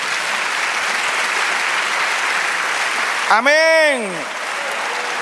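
Church audience applauds the Lord in steady, hissing clapping that fills most of the stretch, broken near the end by a brief sung or shouted vocal and then settling back into the applause.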